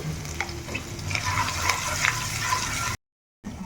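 Spices, ginger paste and chopped green chilli being stir-fried in a pan for bottle gourd stem moong dal: close sizzling with scraping stirs and small crackles, then a short dead gap before the frying resumes.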